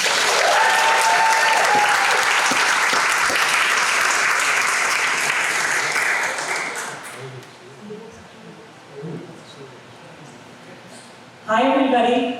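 An audience at a bookstore author talk in Norwich breaks into loud, sustained applause for several seconds, which fades out into scattered claps and quiet murmurs before a voice begins speaking near the end.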